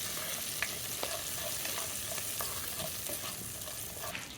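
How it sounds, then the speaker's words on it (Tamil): Small onions sautéing in a pan for sambar, a continuous soft sizzle with scattered spoon clicks and stirring scrapes, fairly quiet and close. "ஒரு நூறு கிராம் சின்ன வெங்காயம் ஒரு அஞ்சு நிமிஷம் நல்லா வதக்கிங்க"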